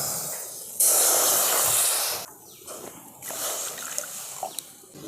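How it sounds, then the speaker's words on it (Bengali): Two bowls of water pour into mashed pumpkin in a kitchen, a loud rushing splash lasting about a second and a half, followed by quieter trickles and faint handling noises. "তো আমি এই বাটির মাপে দিয়ে দিচ্ছি 2 বাটি জল।"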